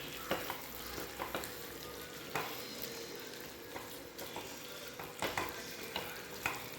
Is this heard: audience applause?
no